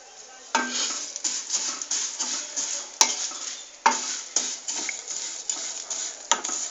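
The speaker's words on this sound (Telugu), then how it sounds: "అదే ప్యాన్లో సేమియా 1 కప్ వేసుకొని దాన్ని కూడా ఫ్రై చేసుకోవాలి" Vermicelli frying in a pan, a bright sizzle under repeated rhythmic spatula scrapes and metallic clinks against the pan, close and fairly loud.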